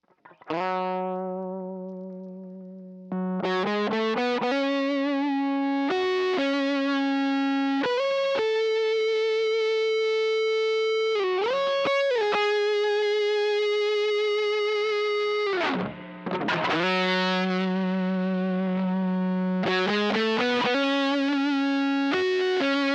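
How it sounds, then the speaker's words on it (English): An electric guitar through a fuzz pedal plays sustained, buzzing notes and bends, thick and saturated, alone with short pauses between phrases. "it's clearly using an effect known as fuzz."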